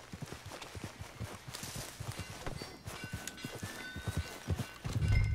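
Horse hooves clip-clop at a walking pace through a busy town in Red Dead Redemption 2, fairly quiet and rhythmic, with a louder thump near the end.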